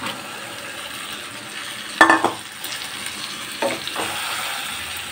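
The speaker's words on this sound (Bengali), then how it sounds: "এখানে যে চিকেনটা ম্যারিনেট করা ছিল এটা আবার দিয়ে দেবো।" Marinated chicken goes into oily spiced masala in a pan, giving a steady sizzle with two sharp bursts of stirring and scraping, close and clear, with no voices.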